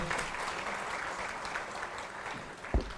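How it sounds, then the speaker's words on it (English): Audience applause welcomes the Prime Minister at the Uganda–UAE business forum. The clapping is fairly quiet and steady, sounding somewhat distant, and runs for about three seconds, with a single sharper thump near the end. "Can we give the Prime Minister a round of applause and welcome here?"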